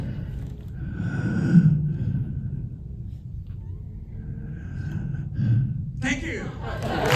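An actor imitates the heavy, slow breathing of Michael Myers from the Halloween films, drawn-out rasping inhales and exhales through a microphone in front of a Q&A audience, ending as the room breaks into noise.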